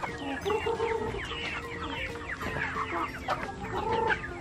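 Chickens on a farm cluck and chatter in a dense, steady flock, with overlapping calls close by and no talk.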